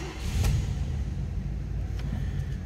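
A 1985 Oldsmobile Delta 88 sedan engine catches and settles into a low, steady idle rumble up close, after a brief surge as it fires.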